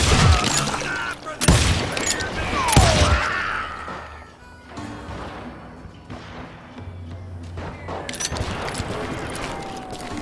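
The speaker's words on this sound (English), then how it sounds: "I heard the shots and I knew I had to move fast" Revolver and rifle shots in the Wild West shooter Call of Juarez: Gunslinger, several sharp loud cracks early on, then scattered thuds, impacts and distant shots under a voice.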